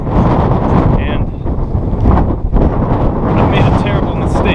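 Strong wind buffets the microphone on the exposed summit of Steptoe Butte, a loud continuous rumbling roar with gusty surges and no pause.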